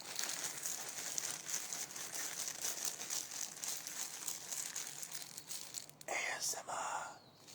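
Plastic packaging crinkled and rustled close up in a steady stream, with a few sharper crackles near the end.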